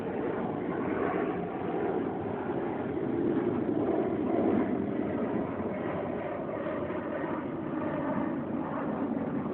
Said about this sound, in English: airplane flying west over the street